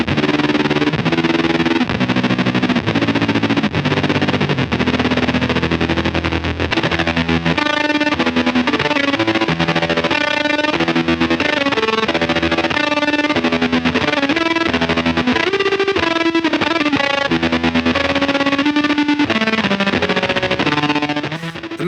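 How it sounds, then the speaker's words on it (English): Cosmodio Glitch Witch analog auto-modulated logic fuzz pedal producing loud, dense distorted synth-like tones with rhythmic chattering chop effects, stuttering and gated throughout without pause. "all sorts of rhythmic chatter chop effects"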